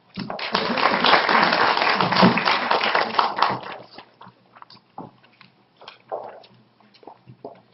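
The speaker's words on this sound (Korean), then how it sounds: "박수로 한번 맞아보시죠." A Korean development-cooperation event audience gives a dense burst of applause to welcome a speaker, loud for about four seconds before thinning to scattered claps and light room noise.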